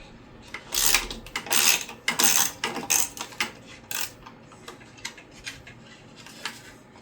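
Nylock nuts being loosened and removed from the airbox of a Generac XG10000E generator, a series of close, quiet metallic clicks and ratcheting bursts with small clinks and rattles, no talk.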